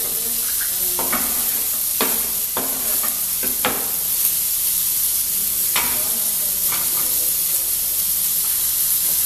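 Tomatoes frying in a hot pan give a steady, loud sizzling hiss, broken by scattered clinks and scrapes from stirring.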